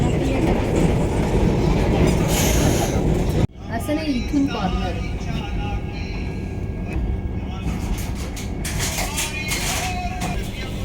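Passenger train running from Kalyan to Sainagar Shirdi: a steady, loud rumble of the carriage on the rails, broken by a sudden drop and then a rattling, clattering ride with faint clicks from the wheels.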